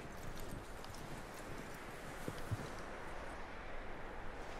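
A horse walks along in Red Dead Redemption 2, its hooves clip-clopping faintly at a steady pace over quiet outdoor ambience, with no voices.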